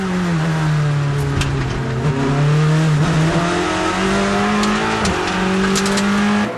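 A Proton Porsche race car pulls out of the pit lane at the 6 Hours of Monza endurance race, its engine droning loudly and rising in pitch as it accelerates, close and continuous.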